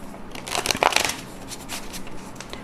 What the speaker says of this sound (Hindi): कार्ड्स को अच्छे से शफल कर लेते हैं।